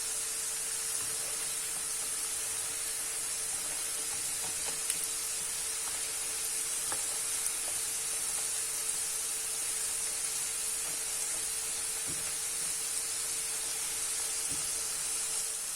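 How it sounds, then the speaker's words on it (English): Potato chips fry in hot oil over medium heat, a constant soft sizzling hiss with occasional faint pops and clicks, steady and unbroken for the whole stretch. "Allow it to fry on medium heat until cooked throughout and crispy."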